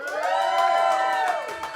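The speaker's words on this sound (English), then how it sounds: "If you thought Nicholas won, clap and cheer" An audience at a comedy gong show cheers and whoops for contestant Nicholas, a dense burst of many voices that swells and then fades over a couple of seconds.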